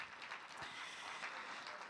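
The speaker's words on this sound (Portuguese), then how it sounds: "Vamos aplaudir a palavra de Deus, irmãos?" Church congregation applauding together, a steady dense wash of clapping filling the whole moment with no voices over it.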